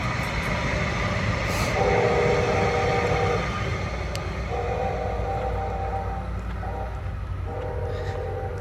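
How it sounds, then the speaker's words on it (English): A train rolls past nearby with a steady rumble and clatter of wagons, its horn sounding in several long tones spread across the passage. "And here comes a train."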